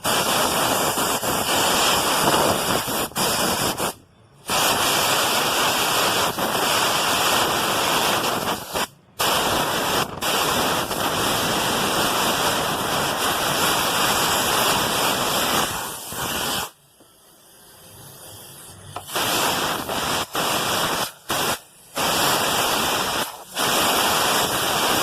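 Compressed air blasts rust and dirt out of the air filter box of a Unicorn 150 motorcycle, a loud close continuous hiss running for long stretches with a few brief cutoffs and one longer pause midway.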